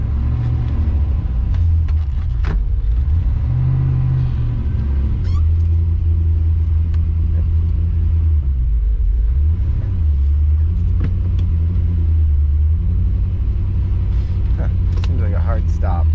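A Ford Maverick engine runs with raised RPMs in a close, loud rumbling drone whose pitch rises and dips, and a voice talks over it.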